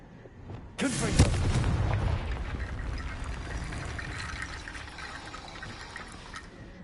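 A Confringo fire spell explodes in Hogwarts Legacy with a loud booming blast, followed by a long crackling, rushing roar that slowly fades over several seconds.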